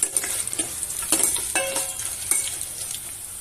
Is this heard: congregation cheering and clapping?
no